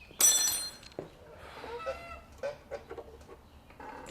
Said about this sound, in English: So many geese around here.